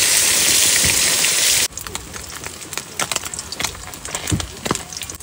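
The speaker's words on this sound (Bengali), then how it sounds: "এবারে দাঁতনে মাছগুলো ভেজে নেবো, পুরো কাটায় কাটায় তেল।" Small datne fish frying in oil in a pan at an outdoor cooking spot beside a tiger forest, a loud dense hiss that abruptly drops to softer crackling and popping sizzle.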